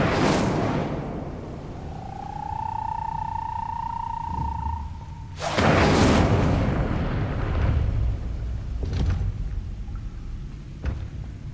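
A fire spell cast in Hogwarts Legacy near a gate: a broad whooshing burst opens the moment, a sustained tonal hum follows, then a second loud fiery blast around the middle trails into softer crackles and thuds, with no talk.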